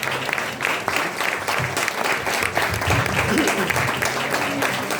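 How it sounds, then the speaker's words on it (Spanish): Audience applause at a Sant Jordi literary gathering in a cultural hall in Barcelona, dense and steady clapping from a room of people with some voices mixed in beneath. "Venga, un aplauso"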